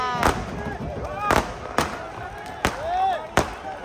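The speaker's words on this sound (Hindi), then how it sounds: "आतिशबाजी दे" Fireworks burst at a political rally in Lahore, Pakistan, in a series of sharp bangs spaced about a second apart, with a crowd murmuring and calling out in between.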